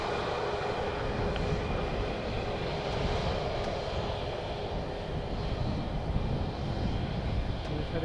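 Airliner taking off at Edmonton International Airport, a steady broadband engine roar that holds fairly loud and even throughout, with a low rumble underneath and no voices.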